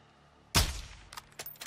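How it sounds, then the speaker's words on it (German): A single sharp gunshot from a Call of Duty: Modern Warfare II game, close and loud, followed by a few quieter clicks and faint trailing sounds. "Netter Schuss."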